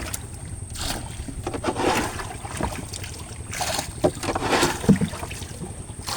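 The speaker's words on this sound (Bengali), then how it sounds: "এটাকে বলে যে এই নৌকার পানি সেচা" Water being bailed out of a wooden village boat with a scoop, heard as repeated splashes and sloshes at close range over steady water and faint wind noise, with no talking.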